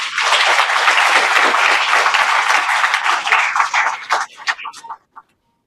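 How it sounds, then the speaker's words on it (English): An audience applauds itself at a Jamaican student program gathering, loud dense clapping that swells steadily, thins into a handful of scattered claps near the end, then stops abruptly. "Clap yourselves."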